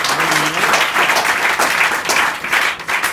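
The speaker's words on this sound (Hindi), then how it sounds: "चलो मियादान सरदार के लिए तालियां बजाएं।" Sustained applause from an audience clapping for Miyadan Sardar, dense and loud throughout before tapering slightly at the end.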